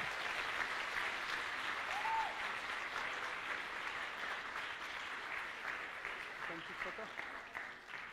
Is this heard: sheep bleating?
no